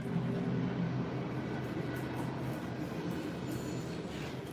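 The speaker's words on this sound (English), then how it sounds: "I'm gonna have to get closer because of the train." A passing train rumbles steadily close by, a continuous low roar with faint wheel squeal and no speech over it.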